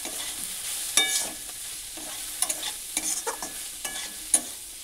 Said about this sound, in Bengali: এবার আমি সবজির সঙ্গে মশলাটা ভালো করে কষিয়ে নিব।